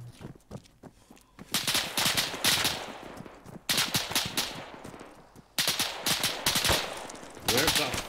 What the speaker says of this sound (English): Taking fire from the north